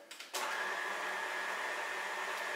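A stand mixer with a dough hook kicks on after a couple of soft knocks and settles into a steady, loud whirring hum as it churns flour and semolina for ravioli dough.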